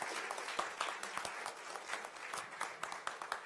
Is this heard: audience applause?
yes